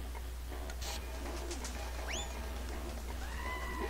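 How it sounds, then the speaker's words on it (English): Pigeons coo in the video game Jazzpunk, a few soft rising calls over a steady low background hum, with a brief brighter chirp near the end and no talk. "I can't shoot any of these pigeons."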